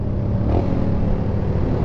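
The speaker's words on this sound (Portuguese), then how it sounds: "A melhor coisa que eu fiz foi colocar esse escapamento" A Yamaha Lander motorcycle with an aftermarket exhaust rumbles steadily at close range, a loud continuous engine drone with a slight rise in revs partway through and no talking.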